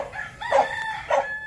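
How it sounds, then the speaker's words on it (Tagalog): Chickens cluck in a yard, with two short, close bursts of clucking calls over a quiet background. "Oh, wait lang mga manok."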